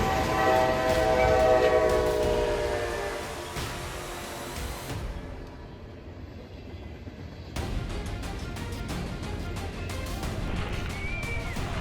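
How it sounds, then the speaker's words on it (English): A train passes a road crossing, sounding a loud sustained horn blast over rumbling wheels, then the roar fades briefly before rattling rail noise returns. "a train struck a truck at a crossing, reducing the vehicle to twisted metal in moments"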